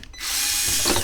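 Power screwdriver whirring steadily as it backs screws out of a Nivona 769 coffee machine during disassembly, one continuous close, loud buzzing burst after a brief start.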